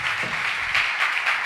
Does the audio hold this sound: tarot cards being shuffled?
no